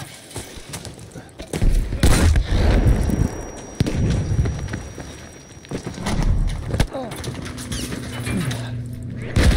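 Grenade blasts and gunfire in a Battlefield 5 multiplayer conquest match on the Aerodrome map, loud, booming bursts and crackling shots layered under shouting voices.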